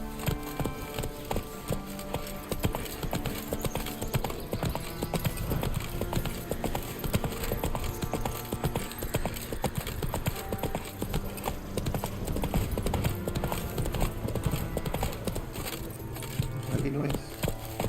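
Horse galloping in The Witcher 3: Wild Hunt, a continuous fast rhythmic clatter of hooves, close and steady throughout, with a voice speaking over it.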